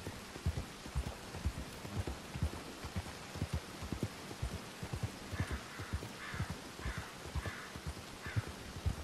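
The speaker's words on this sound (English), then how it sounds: "I love that it's the consistent rain." Steady rainfall in the video game Red Dead Redemption 2 patters continuously, with rhythmic low thuds like a horse's hoofbeats underneath and a few faint clinking accents near the end.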